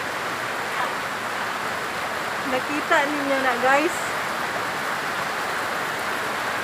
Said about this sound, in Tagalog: Kusog ang ulan, manggod.